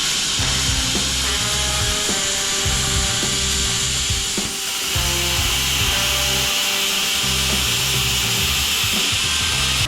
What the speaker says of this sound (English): Now I gotta find my plasma cutter.